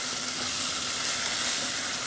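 A tomato salsa browning in hot oil in a pot for a brothy noodle soup, a loud steady close-up sizzle that keeps up evenly with no break and no talking.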